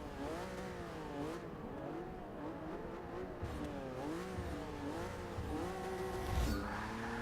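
A Porsche race car engine in Forza Motorsport 6 revs and shifts continuously, rising and falling in pitch with occasional tire screech, steady and fairly loud throughout.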